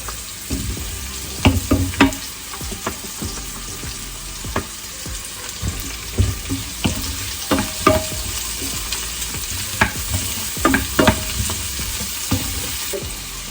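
Peppers stir-frying in a hot pan for sweet and sour pork, a constant sizzle broken by frequent spatula scrapes and knocks against the pan, close and lively.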